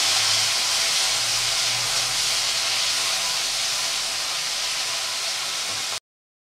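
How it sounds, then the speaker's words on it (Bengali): Shrimp coated in salt and turmeric fry in hot oil with a continuous loud sizzling hiss, close and steady, before cutting abruptly to silence at the end. "তেল গরম হয়ে গেছে, এখন চিংড়ি মাছটাকে দিয়ে দেবো।"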